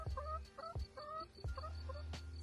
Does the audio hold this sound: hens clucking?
yes